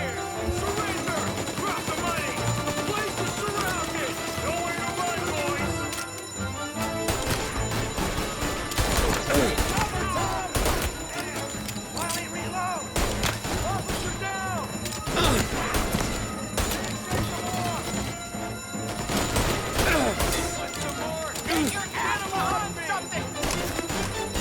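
Gunfire in Mafia: Definitive Edition, scattered shots and sharp crashes spread through a chaotic firefight under a person talking steadily over the game sounds.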